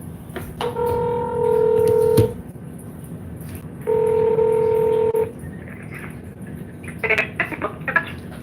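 Telephone call to Crestwood, Illinois City Hall: two long steady dual-tone beeps, each about a second and a half, with clicks between them, then a burst of short rapid keypad tones near the end, faint background hiss.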